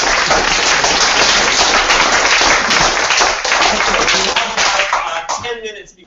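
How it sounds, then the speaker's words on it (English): A conference audience at an international policy talk breaks into sustained, dense applause, many hands clapping loudly and evenly before it tapers off and fades out near the end. "Let's have a round of applause."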